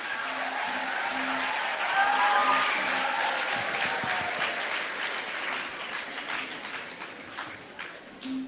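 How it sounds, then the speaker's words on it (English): A roomful of people at a school Teachers' Day celebration claps warmly for the teachers, loud at first and then gradually thinning out toward the end. "Can we have a huge round of applause for all the teachers sitting here?"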